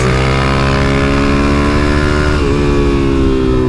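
Suzuki DRZ400SM supermoto single-cylinder engine pulling hard under acceleration, a loud steady droning roar with rising pitch and a brief dip as it shifts gear, heard close from the rider's position with wind noise.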